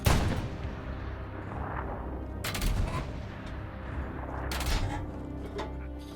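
An artillery gun fires in Hell Let Loose, with booming shots at the start and twice more a couple of seconds apart, each loud and rolling over a low rumbling battlefield backdrop.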